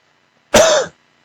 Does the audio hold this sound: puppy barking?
no